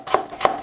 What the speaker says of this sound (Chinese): 生姜切薄片，改刀切成姜丝